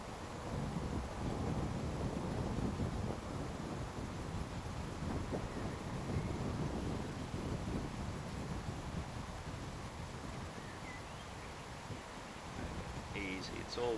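Strong wind roars across the microphone outdoors while a model plane with aileron servos is flown, a steady, loud broadband rumble that buffets continuously throughout with little letup.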